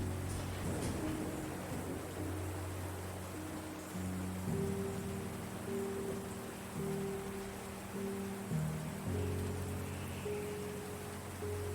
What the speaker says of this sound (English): While this is running, we can get the vibes of rain